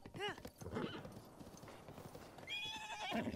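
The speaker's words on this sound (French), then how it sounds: "J'ai récupéré le cheval" A horse in Zelda Breath of the Wild neighs with a rising, wavering whinny and clip-clops at a walk, fairly close, with a second neigh near the end, alongside quiet game sounds.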